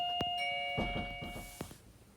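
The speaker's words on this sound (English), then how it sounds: "I got interrupted there by the doorbell." A doorbell rings in a home, giving a couple of clear chiming tones with ringing overtones, followed by soft thumps. It sounds moderately close against a quiet room.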